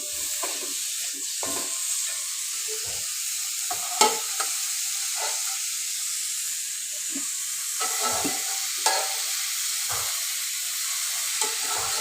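Pressure-cooked chicken pieces are stirred into masala in a pan, a steady sizzle and hiss underlying repeated scraping strokes of the spoon, close and without talk.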